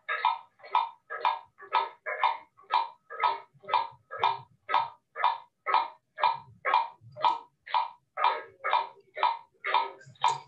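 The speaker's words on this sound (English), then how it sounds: "That is the sound of the metronome." A metronome ticks in a steady, even rhythm of about two beats per second, with each crisp tick sounding alone and at a constant level.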